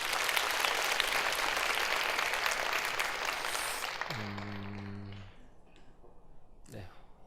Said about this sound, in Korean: 하나님께 영광의 박수를 한번 드리도록 하겠습니다